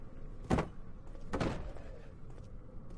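A door slammed in the horror game Amnesia: The Dark Descent, heard as two separate heavy, close thuds about a second apart over a low, dim room tone, with no voices.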